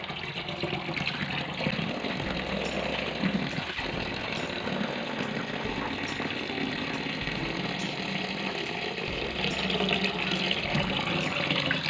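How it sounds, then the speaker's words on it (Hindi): Tap water runs steadily for a stretch while raw mutton or beef is rinsed clean of blood in a sink, a continuous broadband splash with a low background hum, no talking. "15 मिनट के बाद मैं गोश्त को अच्छी तरह से टैप वाटर से धो लूँगी"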